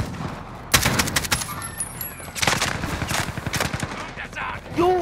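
Automatic weapons fire in rapid bursts during a zombie fight in Call of Duty Warzone's Haunting of Verdansk mode, loud and close, with short pauses between volleys.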